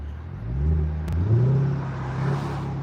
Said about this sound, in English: Rev it a bit.